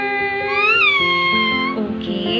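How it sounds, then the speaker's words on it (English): A cat meows loudly and continuously at close range in a home, one long drawn-out wavering call that bends in pitch, with no talking. "Okay, so we have here Summer the cat and our box."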